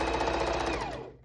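A sewing machine runs a zigzag seam on a pillowcase, producing a fast, even, close-up stitching rattle that slows and fades out at the end, with no voices.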